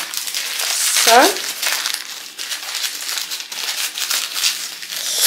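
Packaging being unwrapped and unpacked, with close, loud crinkling and rustling of plastic or paper throughout, plus a brief squeaky scrape near the start.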